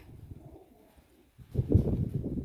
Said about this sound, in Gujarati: જો આમાં કબૂતર દેખાય તમને?